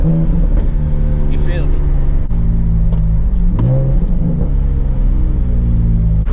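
Turbocharged Nissan 370Z running on E85 cruises with a loud, steady low engine rumble and occasional throttle swells, while someone talks over it close to the microphone.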